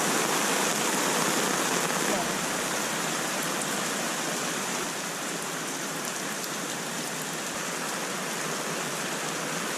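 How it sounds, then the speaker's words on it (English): Heavy rain pours steadily outdoors at a beach resort, a dense, loud hiss of drops striking ground and water, constant and unbroken throughout with no pauses. "The rain is so heavy that it's like an inch deep just sitting on the ground."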